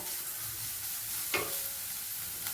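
Carrot sautéing in a pan for gooseberry rice, a low continuous sizzle with a couple of sharp utensil taps against the pan, close and fairly quiet, no voices.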